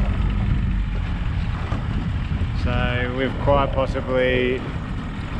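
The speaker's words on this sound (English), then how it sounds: "it's so bloody windy and I can't see anything on the screen" Strong wind roars steadily across the microphone on a small aluminium tinny out fishing on an overcast day, a constant broadband rush with someone talking over it partway through.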